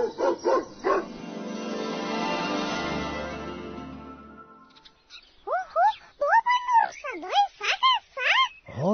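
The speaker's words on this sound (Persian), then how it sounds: "اینجا سگ آمد" A dog barks in a fast run of yips and whimpering barks near the end, preceded by a long sustained tonal sound and early voices.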